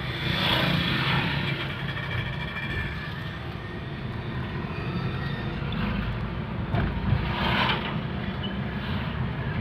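A 2012 Toyota Avanza engine revving hard in third gear during a tune-up, a loud, steady, broadband roar that holds throughout with slight swells in intensity.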